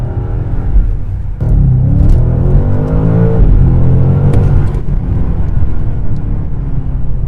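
A powerful BMW M car engine revs up and down nearby, with quick 8-speed downshift blips and a deep, rising exhaust roar.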